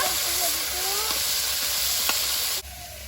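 Okra frying in hot oil with Bengali five-spice and dried red chillies: a loud, dense, unbroken sizzle and hiss up close, dropping off abruptly near the end.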